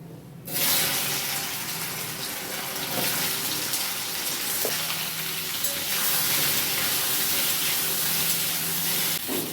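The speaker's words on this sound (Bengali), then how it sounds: "এবার ওই তেলেই দিয়ে দিচ্ছি আমি একটু গরম মশলা সম্বার, দিয়ে প্রথমে কচুগুলো ছেড়ে দিচ্ছি।" Boiled-free mukhi kochu (taro) pieces dropped into hot oil with whole garam masala, a loud continuous sizzle and crackle that bursts in suddenly and stays strong and close, with no talking.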